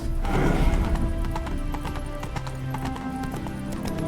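Horse hooves clip-clop steadily in The Witcher 3 game, with a horse's neigh and snorting breaths close by over a bed of sustained tonal game music.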